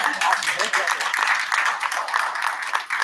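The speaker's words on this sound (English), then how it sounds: "I mean, that's applause, right?" Applause from the audience at a county school district trustee engagement meeting, a steady crackling wash of many hands clapping at moderate distance for about three seconds, with voices talking over it.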